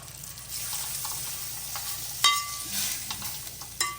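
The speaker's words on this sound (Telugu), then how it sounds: "ఇప్పుడు కలిపేసుకుందాం" Lemon rice is stirred in a pan on a stove, with a soft sizzling scrape running steadily and a few sharper clinks from the spoon against the pan.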